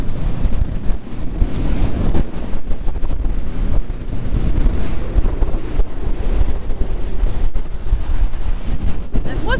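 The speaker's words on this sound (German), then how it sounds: "Muss ich mich natürlich gut festhalten, weil wir voll die Welle abkriegen." A small motorboat races flat out through choppy water off Friesland on the route toward Terschelling, hull slamming into waves with a continuous loud rush of spray, engine drone and heavy wind buffeting close to the microphone.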